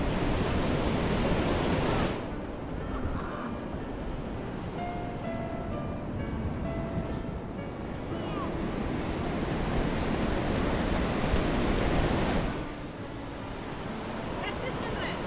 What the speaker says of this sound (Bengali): ভীষণ জোরে যে পড়ছে স্রোতটা